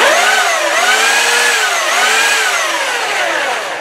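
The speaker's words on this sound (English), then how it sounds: "Go get you a belt sander. This is a Black & Decker." A Black & Decker belt sander runs loud and steady, its motor pitch rising and falling in sweeping waves as it works a wooden bench, with no voices over it.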